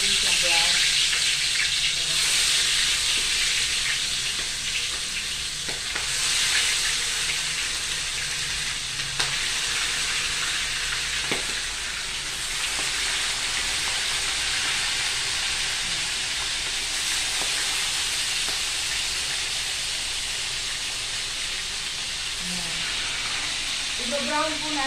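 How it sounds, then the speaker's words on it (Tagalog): Pork belly for estofado fries in a pan with a loud, steady broad sizzle and hiss that runs unbroken and close for the whole stretch, with faint occasional stirring. "Ibabrown po natin siya, ipiprito po natin siya"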